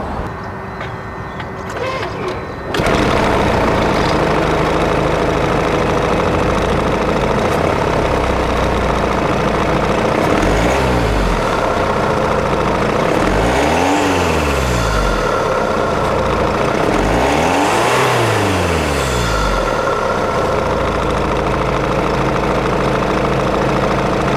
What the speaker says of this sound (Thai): มาฟังเสียงเครื่องยนต์กันครับ